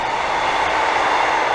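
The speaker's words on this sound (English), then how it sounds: "and of course the trains are here too." A short train rumbles past a workshop where a car is being worked on, a steady loud roar of wheels and engine holding even throughout the short stretch with no talk over it.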